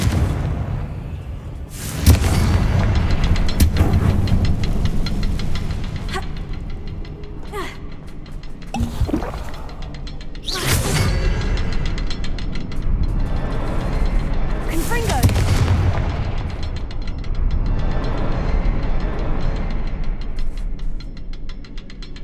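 Confringo fire-spell blasts in Hogwarts Legacy, a run of loud booming bursts spread across the stretch with rumbling tails between them, a voice speaking over parts.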